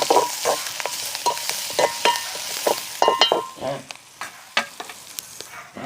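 Shallots, curry leaves and dried chilies sautéing in a pan give a continuous close sizzle, broken by frequent sharp scrapes and knocks of stirring.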